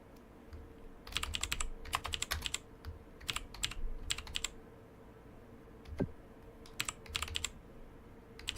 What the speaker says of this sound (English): you see how slowly I'm typing